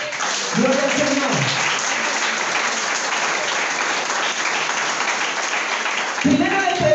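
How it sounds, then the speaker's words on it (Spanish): A church congregation breaks into sustained, loud applause, a thick steady clatter of many hands, with a voice speaking briefly over it at the start and again near the end. "Denle un aplauso a Jesús."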